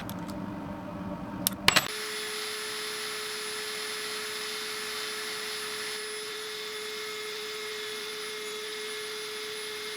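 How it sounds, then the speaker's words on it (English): High-speed Dremel bit drilling a tiny hole in balsa wood for a mosquito fishing lure, with a few clicks and then a steady, thin, high whine of the tool running close by on its own. "I'm going to use a Dremel, a high-speed Dremel bit."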